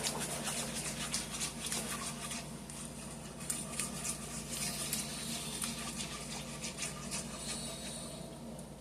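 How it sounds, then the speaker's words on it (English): Gravy for beef liver smothered in onions being whisked in a pan, a steady, close scratchy rubbing and light pattering of the whisk that keeps going without a break. "I'm going to get my whisk because I need my whisk for this"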